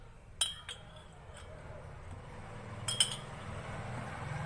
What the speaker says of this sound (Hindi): और एक ही डायरेक्शन में हम चम्मच को चलाते जाएंगे